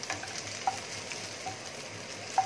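Garlic frying in a pan for a crispy galunggong with cucumber dish gives a steady, quiet sizzle with faint stirring ticks and a couple of brief clinks, with no talking.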